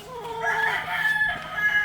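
A rooster crowing at an egg farm in Pangasinan, a single drawn-out crow, close and clear, with no talk.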